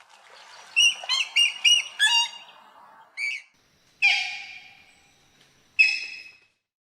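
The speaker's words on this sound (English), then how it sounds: "Moorhen." Moorhen calling alone: a run of quick, sharp chirping notes, then a couple of louder, abrupt squawking calls with pauses between, close and clear against a quiet background.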